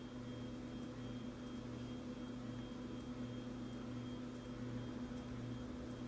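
A Sumpple S610 Ethernet WiFi security camera pans continuously from left to right, its motor giving a faint, steady low hum with a thin whine that holds evenly throughout.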